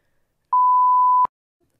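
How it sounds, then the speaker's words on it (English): A single clean censor beep, a steady mid-pitched tone lasting under a second with an abrupt start and a click at the end, alone against silence. "Beep that out."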